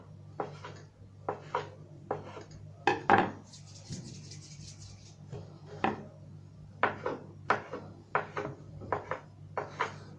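Repeated short knife chops cutting dough into small pieces on a board, irregular bursts near and fairly quiet, with a brief scraping rub midway and a low steady hum underneath.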